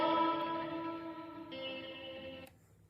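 An electric guitar on a clean amp setting with heavy reverb, played on the back two pickups, sounds a sustained chord that shifts once partway through, then rings out and fades into a reverberant tail, alone with no talk.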